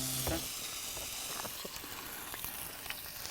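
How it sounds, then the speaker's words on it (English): Skewered yabbies frying on a hot pan or grill at a bush cooking session, a steady, fairly quiet sizzle with small crackles and pops running throughout. "Then I plate it up and make a start on cooking the yabbies."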